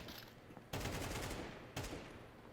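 AK rifle fire in the Counter-Strike video game, two loud bursts of shots coming in quick succession against a quiet background, with no talking.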